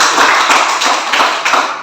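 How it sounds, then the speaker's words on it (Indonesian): A classroom of students claps together in a short, close burst of dense, overlapping hand claps that fades out after about two seconds. "Tepuk tangan dulu."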